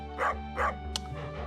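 A dog barks twice in Stardew Valley, modded, two clear close barks half a second apart with a short yip after, over steady game music.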